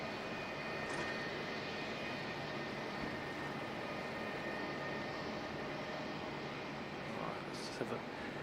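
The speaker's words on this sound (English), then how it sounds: "it's just 115 heading off to Rarotonga" Air New Zealand flight 115 to Rarotonga departing Auckland Airport in fog, a steady, faint, distant engine roar holding evenly throughout with a light hiss, heard from far off.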